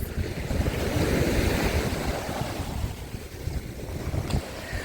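Sea waves wash onto the shore along the Odesa coast between Sobachka and Lanzheron, a loud, continuous surging rush with heavy wind buffeting the microphone and no voices.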